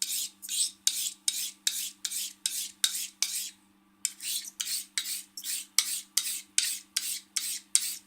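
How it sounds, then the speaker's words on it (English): A 1930s English Smith & Daniels straight razor drawn in diagonal strokes across a DMT diamond plate, giving a steady run of about twenty even rasping scrapes with one short pause, close and clear with no talking. "So let me set the bevel on this razor."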